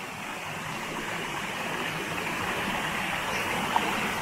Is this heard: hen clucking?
no